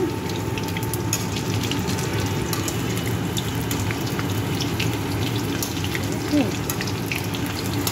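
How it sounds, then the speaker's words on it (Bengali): Chicken pakoras coated in cornflour batter deep-frying in hot oil, giving a steady, dense bubbling sizzle that runs unbroken throughout at moderate loudness, with no talking over it. "এইরকম একটু লালচে লালচে করে ভেজে নেব।"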